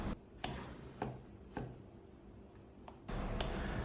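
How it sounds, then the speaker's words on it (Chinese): A knife chops tomatoes into chunks on a board, with five or six sharp, evenly spaced cuts close by, followed by a busier burst of cutting at the end. "把番茄切成块备用"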